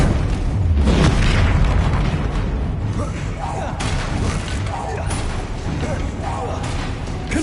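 Confringo spell blasts in the Hogwarts Legacy video game land with a loud, deep boom near the start, then a continuous rumbling din of battle effects with smaller pops, partly under a speaking voice.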